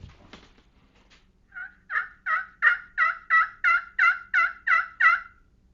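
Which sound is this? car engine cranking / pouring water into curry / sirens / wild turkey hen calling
wild turkey hen calling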